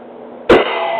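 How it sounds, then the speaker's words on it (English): A single sharp, loud cough bursts out close to the microphone partway through a coughing fit, followed by a lingering steady hum in the room. "I never had this coughing fit before, but I did now."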